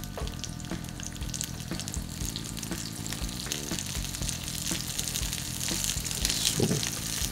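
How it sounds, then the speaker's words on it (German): Red cabbage fries in a hot pan, giving a steady close sizzle and crackle throughout, with occasional stirring scrapes and spatters and no talking over it. "Und die braten wir jetzt schön an."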